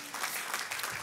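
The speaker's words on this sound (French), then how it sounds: "vous avez le droit d'applaudir" An audience breaks into applause during a French-language talk: a steady, dense patter of many hands clapping, fairly close and sustained for about a second, with no voices over it.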